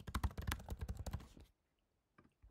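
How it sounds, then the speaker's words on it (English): Quick, crisp keystrokes on a computer keyboard as a comment is typed, a fast run of clicks lasting over a second, then silence and a couple of faint taps. "so I can type a comment"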